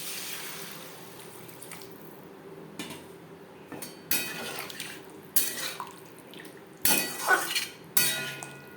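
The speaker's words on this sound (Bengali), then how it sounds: "3-4 মিনিট মশলার সাথে পেঁপে সাঁতলে নেওয়ার পর দিয়ে দেবো জল" Papaya sautéing with spices in a pan is stirred with a utensil, giving irregular clinks and scrapes against the metal that grow louder and more frequent toward the end, over a faint background sizzle.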